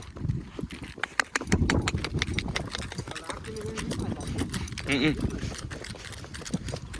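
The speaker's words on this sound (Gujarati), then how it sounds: "જો તેજુ બહુ સારા પગ નાખે છે અત્યારે." Horse hooves clip-clopping in a steady walking rhythm on firm ground, close by, with someone talking over the footfalls and a short whinny-like call partway through.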